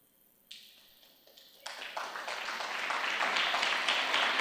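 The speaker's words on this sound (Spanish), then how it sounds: "Fuerte el aplauso al Señor Jesús." Church congregation breaking into applause after a sermon, starting with a few scattered claps and swelling into broad, steady clapping that grows louder toward the end.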